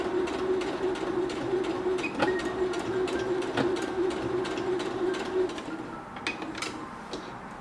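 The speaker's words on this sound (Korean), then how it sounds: "1cm 간격을 유지하면서 끝까지 봉제를 해주세요." A sewing machine stitches a tea mat in a quiet room with a steady, loud mechanical whir and rapid needle ticking, easing off near the end.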